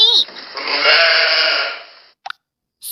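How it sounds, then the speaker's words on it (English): A sheep bleats once, loud and close, in a long wavering call of about two seconds, followed by a very brief soft click. "Sheep."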